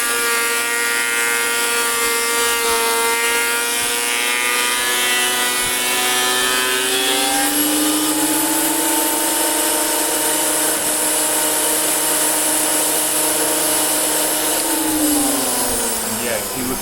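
A machine planing rough pallet timber drones loudly and steadily, its whining tone shifting in pitch as boards feed through and shifting again near the end, with faint voices buried in the noise.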